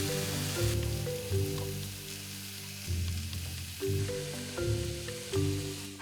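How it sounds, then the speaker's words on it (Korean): King oyster mushrooms grill dry in a pan over medium heat with no oil, giving a steady close sizzle that swells and eases with occasional stirring. "기름을 두르지 않은 채 중불에서 버섯의 수분을 날리며 앞뒤로 노릇하게 굽는다."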